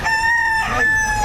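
A rooster crows close by at a Saturday chicken market in Lipa, Batangas, a single strong, sustained call ringing out above the faint murmur of the marketplace.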